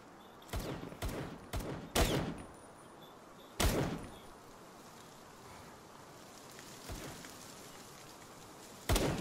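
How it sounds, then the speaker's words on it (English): Sharp gunshots ring out in the video game Palworld, several in a quick cluster followed by isolated single shots spaced apart, each a loud crack over quiet ambient background. "Now I can pop over, take a shot at him."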